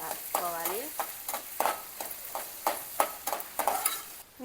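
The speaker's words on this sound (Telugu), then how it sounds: "వాటిలో పచ్చిమిరపకాయలు, ఆనియన్, ఆనియన్ అయితే వేసేసుకొని బాగా వేయించుకోవాలి." Green chillies and onions frying in a pan for chicken curry, stirred with a spatula in short, regular scraping strokes over a soft sizzle, close up, with a brief voice-like tone near the start.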